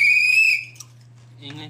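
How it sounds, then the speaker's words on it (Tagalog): A whistle is blown in a brief shrill burst, followed by a low steady hum and a few faint murmurs. "Ganito ba yun? Pito. I-blow mo."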